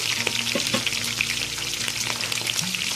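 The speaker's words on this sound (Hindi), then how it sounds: "अब मैं करेले फ्राई करने लगी हूँ" Close, steady sizzling of bitter gourd frying in hot oil over high flame, a continuous bright crackle with occasional soft stirring clinks.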